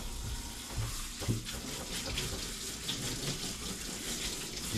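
Cold tap water streams steadily over just-cooked noodles in a sink, a continuous broadband rush with a few small knocks and clatters from the noodles or strainer, close and fairly even throughout.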